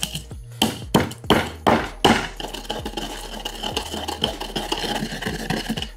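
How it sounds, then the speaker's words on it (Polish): Allspice berries and black peppercorns pounded by hand into a spice blend, with several loud, sharp hammer-like blows at the start followed by continuous close scraping and grinding, no voices. "Teraz wszystko utrę, aby powstała jedna przyprawa."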